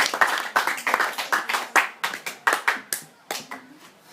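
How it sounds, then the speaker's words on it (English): At a high school debate, an audience claps for a debater, loud and close, with sharp uneven hand claps that thin out toward the end, and no talking. "Ms. Ana Rose Duarte, please give a round of applause"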